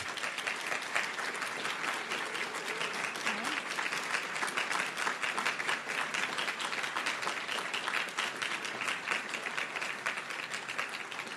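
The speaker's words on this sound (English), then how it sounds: "I always hate the applause bits at the end of talks." An audience gives sustained, even applause at the end of a talk, a steady wash of many hands clapping for over ten seconds, heard at a moderate distance and fairly quiet.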